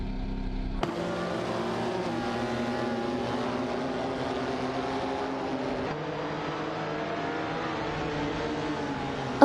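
Race car engines of a Lamborghini Diablo SV and McLaren F1 GT in a racing video game roar steadily and loudly throughout, with a sharp onset near the start and sustained high-revving drone.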